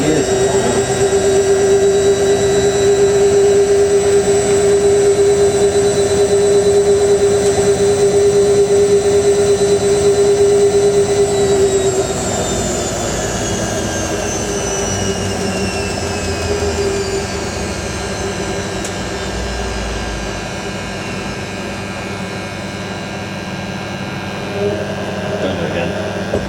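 A vintage 1980s Hotpoint washing machine runs with a loud, steady motor hum and whine that winds down partway through to a quieter drone, with a voice speaking at times.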